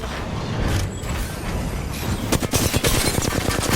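Weapon reload in Apex Legends: mechanical clicks and clatter over steady game noise, followed by a dense burst of rapid sharp impacts like gunfire in the last second and a half.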